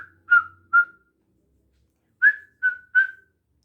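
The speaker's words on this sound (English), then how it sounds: "There are other blind people who like whistling." A person whistles short, clear notes in two groups, first two and then three, separated by a quiet pause, close and alone in an otherwise silent space.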